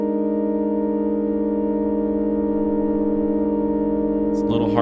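A steady buzzy FM synthesis tone from oscillators in VCV Rack, harmonically rich and constant, with a brief warbling shift in the final half-second.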